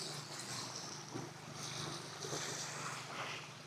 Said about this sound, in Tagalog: Para siyang dagat umaalon.